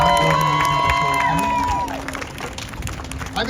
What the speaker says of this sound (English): How about a round of applause for Robyn, who did such a great job.